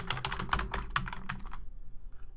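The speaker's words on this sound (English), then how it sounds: "And let's type in Merry Christmas." A quick burst of typing on a computer keyboard, roughly a dozen crisp, close clicks in a fast run that stops after about a second and a half, leaving quiet room noise.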